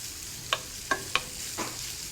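Twelve ounces of large peeled, deveined shrimp, cut into half-inch pieces, fry quietly in hot oil, with a few sharp pops and spits over a soft steady sizzle.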